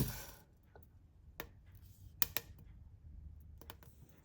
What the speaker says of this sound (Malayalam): നമ്മുടെ അരിയൊക്കെ വറുത്ത് ഇങ്ങനെ പൊട്ടി പൊട്ടി വരുന്നുണ്ട്